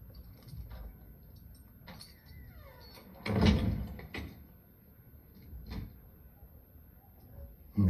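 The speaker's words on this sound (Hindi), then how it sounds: "जरा दरवाजा बंद करके जाना।" A door is closed in a quiet room in a Hindi film scene, making one clear mechanical thump followed by fainter rattles and knocks, with faint voices in the background.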